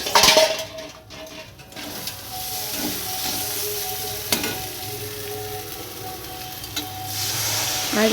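Spice paste of ginger, garlic, onion, green chili and cumin hits potatoes frying in a pan, giving a steady close sizzle and hiss with a few stirring scrapes and light utensil clinks, no talking.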